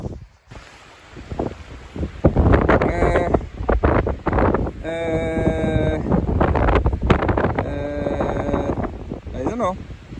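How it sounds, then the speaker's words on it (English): Strong wind buffets the microphone in a freshly grazed open field during heavy rain and wind, a loud, continuous rumbling roar with gusty swells that runs through the whole stretch as a person talks over it. "Sorry about the wind"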